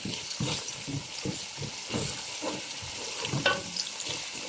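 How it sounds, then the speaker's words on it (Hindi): Ginger garlic paste frying in a pan, a low crackling sizzle with soft rhythmic stirring scrapes pulsing through it, close but fairly quiet, no talking. "इसको भी फ्राई कर लेंगे अच्छी तरह से"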